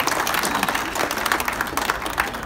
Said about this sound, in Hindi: बात समझ में आए तो भी ताली बजनी चाहिए।